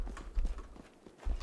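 Rhythmic clip-clop of horse hooves at a steady trot in the video game Pathfinder: Wrath of the Righteous, fairly close, over a low rumbling background with no talking.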